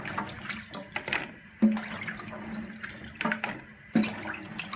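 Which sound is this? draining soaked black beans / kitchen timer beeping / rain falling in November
draining soaked black beans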